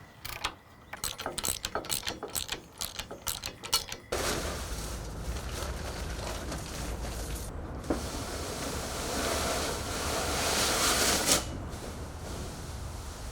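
A tap cuts threads into bolt holes in a steel beam for a large bandsaw mill. Quick ratcheting clicks come first, then a steady, fairly quiet mechanical whir runs on, close by.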